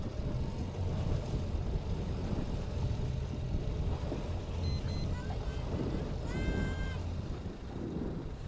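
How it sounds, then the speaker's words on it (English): Steady low engine drone from a boat during a sailboat race, mixed with buffeting wind rumble on the microphone, continuous and fairly loud, with faint high tones briefly cutting through partway. "It's too hard to hear over the engine noise and the wind."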